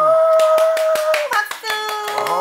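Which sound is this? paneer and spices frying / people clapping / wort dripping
people clapping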